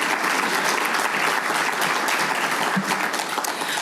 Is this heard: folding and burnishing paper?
no